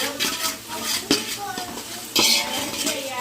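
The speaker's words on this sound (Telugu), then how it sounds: "కొబ్బరి పొడి వేసి మొత్తం కలుపుతాను" Coconut powder being stirred into a mixture in a pot for sambar, a utensil scraping and clinking against the metal in a few close, uneven strokes.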